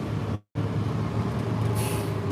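A bus's air brake releases a sharp hiss of compressed air near the end, over steady low engine rumble and traffic noise, preceded by a brief cutout.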